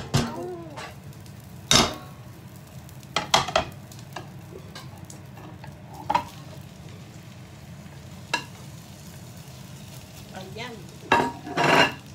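A potato tortilla fries in a pan after being flipped, a continuous close sizzle broken by several sharp utensil clinks and scrapes against the pan.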